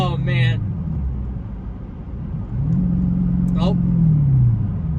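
A Dodge Challenger SRT8 driving, its engine giving a low rumble that rises in a rev after a gear shift into fourth, with a voice speaking briefly over it near the start.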